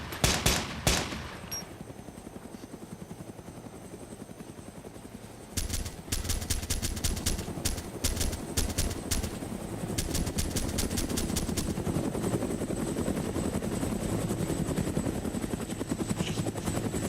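Sustained helicopter rotor thump from a Huey in a military shooter game, overlaid with bursts of rapid machine-gun fire that come in clustered volleys, loud and close, with no talking.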